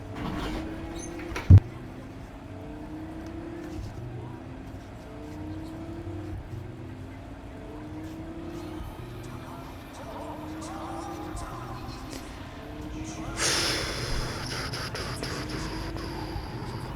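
A summoned car arrives and revs in the video game Cyberpunk 2077. A soft engine hum rises and falls across the stretch, opening with a sharp click, and a louder, brighter burst of engine and movement follows near the end.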